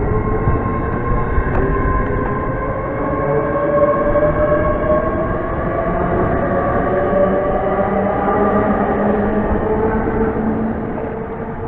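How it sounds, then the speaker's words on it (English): Great Western Railway train at Reading station, a loud sustained rumble and grinding roar with rising and falling tonal whines as it moves through, steady throughout and easing slightly at the end, no speech. "the 1248 Great Western Railway service from London Paddington to Oxford"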